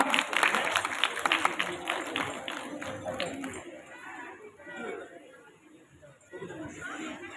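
An audience at a cultural evening claps for a few seconds, a dense patter of hands that thins out into crowd murmur and voices talking.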